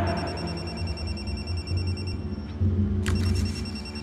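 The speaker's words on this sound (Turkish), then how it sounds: "Kadir, bunu açmam lazım. Telefonu bana at" A mobile phone rings with a repeating high electronic trill, sitting over low rumble and background music in a tense drama scene; no one speaks.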